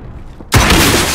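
A sudden loud broadband blast bursts in after a quiet half second of low rumble in a video game, then sustains as a dense roaring wash until the end.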